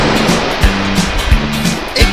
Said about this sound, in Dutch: de golven, ze ruisen